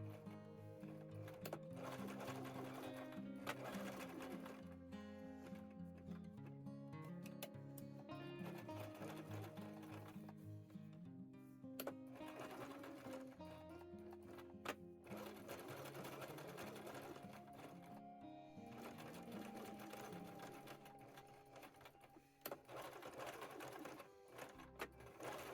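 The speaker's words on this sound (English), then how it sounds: "So, now I just have to sew that elastic on" A sewing machine runs steadily, stitching elastic onto a bra mockup, with a continuous motor whir and rapid needle rhythm throughout and brief pauses in between.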